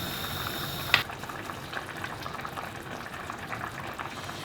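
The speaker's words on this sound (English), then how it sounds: "we'll let it simmer away for about 20 minutes" Celeriac and potato soup simmers in a pot, a steady soft bubbling and hiss with a sharp clink near the start, continuous and fairly close.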